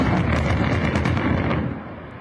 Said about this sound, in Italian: Un'esplosione spettacolare, quella dei massi che a Taormina rendevano pericolosa la via principale di accesso alla città